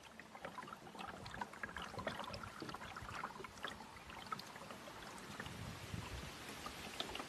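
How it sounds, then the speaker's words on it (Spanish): A mokoro dugout canoe poled along a calm channel, with soft steady water swishing and trickling against the hull and faint scattered splashes and ticks throughout, low and continuous with no voices. "El sonido del mokoro al deslizarse sobre las aguas es lo único que perturba la asombrosa calma"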